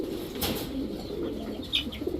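Giribaz racing and high-flyer pigeons, including a mated Shapchila pair, coo in soft, low, throaty rolls close by, with faint chirps and rustling in the loft around them.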